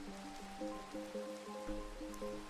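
In Minecraft, a soft hiss of rain runs beneath gentle melodic game music notes, quiet and continuous, with a low rumble near the end.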